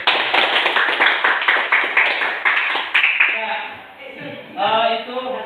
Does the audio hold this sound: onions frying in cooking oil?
no